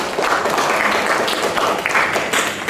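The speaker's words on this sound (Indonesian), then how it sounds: "Ya, tepuk tangan ya." Applause from an audience at an audit results presentation is dense and continuous, fairly loud and close, holding steady for a few seconds.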